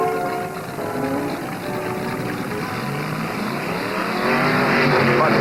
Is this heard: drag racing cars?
yes